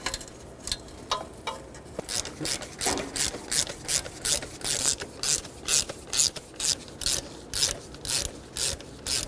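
A ratchet snugs down exhaust manifold bolts on a 2006-2012 Toyota RAV4, giving a rapid run of evenly spaced clicking bursts, close and fairly quiet, with no talk.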